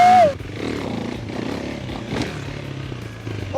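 A newly bought motorcycle's engine runs close by with a steady, rough low rumble that rises and falls slightly, holding at fairly loud level throughout with brief mechanical clatter.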